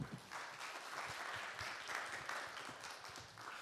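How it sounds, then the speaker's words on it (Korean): Audience applause at an admissions-strategy information session in a Korean academy hall, a steady dense wash of many hands clapping that holds evenly for several seconds, moderately distant and fairly quiet, with no talking over it. "박수 한번 쳐주세요"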